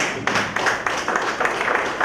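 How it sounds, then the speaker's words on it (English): An audience at a Ghana real estate professionals awards ceremony gives a standing round of applause, with a dense, steady wash of many hands clapping close and fairly loud throughout. "Please, shall we stand up and welcome him? With a round of applause."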